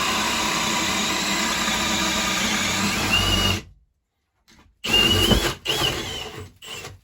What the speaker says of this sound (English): let's go into the drill mode. It's moving. Let's hit that Speed 2